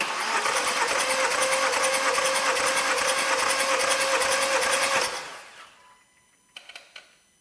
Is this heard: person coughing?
no